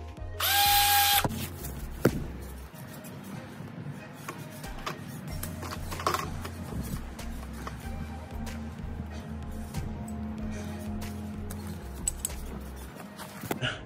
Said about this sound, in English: I upgraded to a little cordless drill